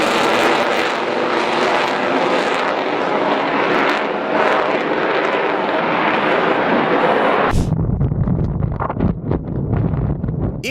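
An Avro Vulcan jet bomber passes with a loud, sustained howling engine roar under gusts of wind noise, the sound cutting sharply to a lower, rumbling tone near the end.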